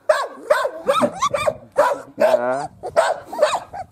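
Aida the puppy barks in a village, a rapid string of close, high yips and barks with a short whining whimper in the middle, while a person says a brief word.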